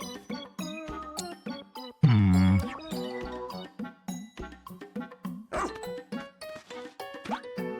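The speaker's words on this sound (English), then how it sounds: "What the dog doing?" Dog barking in the video game Pikmin 4, repeated short yaps in a quick irregular rhythm over game music, with one louder, longer bark-like burst partway through.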